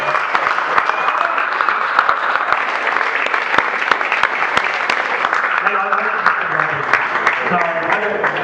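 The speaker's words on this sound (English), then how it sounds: "if you can give the panel a round of applause for sharing their knowledge and experience" An audience applauds a panel after a talk about motorbikes, desert sleds and racing, a steady, fairly close round of many hands clapping that continues throughout, with a few voices faint underneath.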